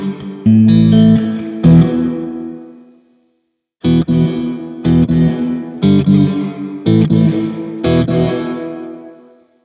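Electric guitar chords are struck in short groups through a Strymon BlueSky reverb with long pre-delay, each followed by a washy reverb tail that blooms slightly after the notes, with a pause between phrases.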